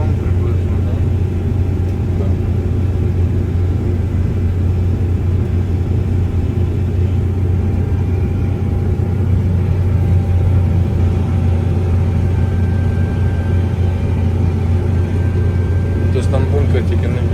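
A CLAAS Lexion 8800 Terra combine harvester runs during a field demonstration with a heavy, steady, loud low-pitched engine rumble. The drone holds constant throughout with only slight changes in tone.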